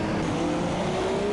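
A Formula 2 race car roars steadily past on the Monaco street circuit, its engine loud and close with a sustained high whine and no break over the short stretch.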